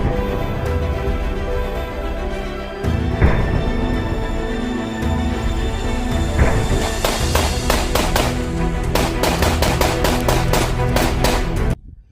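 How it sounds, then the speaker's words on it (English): A Sig Elite 115 grain 9mm magazine is emptied into a pumpkin, starting with a few spaced gunshots, then a rapid string of sharp, loud shots near the end, heard close over a steady background hum. "we're going to mag dump this pumpkin"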